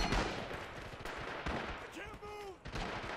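Video game machine-gun fire, rapid sharp bursts of shots crackling fairly close in a busy battle soundscape, with a voice talking alongside.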